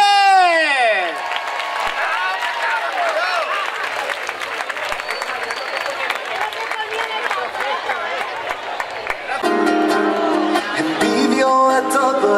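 Loud, dense clapping from a fair audience welcoming a performer, continuous and close, with a descending synth or music tone fading at the start and music entering near the end.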